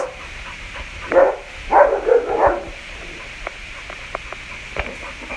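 A bully-breed dog with severe aggression barks in a few short bursts over about two seconds, moderately close, followed by quieter clicks and rustles.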